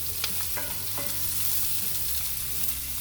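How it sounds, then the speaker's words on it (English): Chopped onions sauté in hot, spluttering oil for a curry, giving a loud, steady, close sizzle with faint crackles and stirring throughout, with no voices. "when the oil has spluttered, add your onions. There you go. And start sauteing them."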